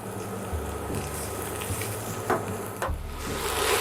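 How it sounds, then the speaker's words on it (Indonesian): Thinly sliced onion sautéing in a pan, a steady close sizzle and crackle running throughout with a few brief stir clatters, no voices. "Selanjutnya kita tambahkan bawang bombay yang sudah kita iris tipis. Tumis hingga harum."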